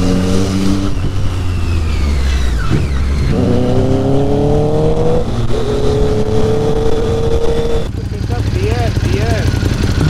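A Triumph Street Triple 675 motorcycle engine revs and shifts through rising gears while riding on hill roads, loud and close with wind rush, and a rider speaks over it.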